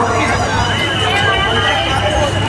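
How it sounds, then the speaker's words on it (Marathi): Dense crowd at a Ganpati immersion procession, a continuous babble of many voices close around, loud and steady with traffic-like rumble underneath. "मस्त एवढी गर्दी भीड झाली आहे."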